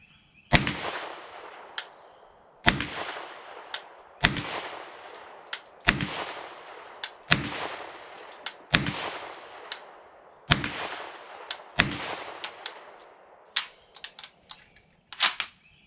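Shots from a Palmetto State Armory gun ring out one at a time, about a dozen sharp loud cracks spaced a second or two apart, with a few quicker shots near the end.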